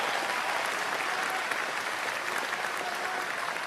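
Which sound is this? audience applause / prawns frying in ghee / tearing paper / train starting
audience applause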